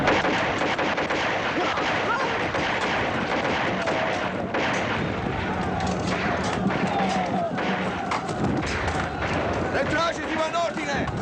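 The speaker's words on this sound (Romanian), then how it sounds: "Parcă se aud împușcături în stânga." Dense gunfire and booming artillery from a battle scene in the 1977 Romanian war film Pentru Patrie, with continuous rapid shots and blasts layered over one another and voices mixed into the din throughout.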